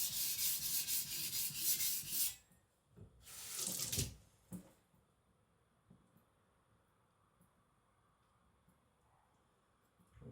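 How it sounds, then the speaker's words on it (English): A custom Chinese cleaver glides across a wet whetstone in a few soft, swishing rubbing strokes near the start, then quiet with faint scrapes. "Now I'm lightening the pressure even more. Just gliding, surfing on the stone."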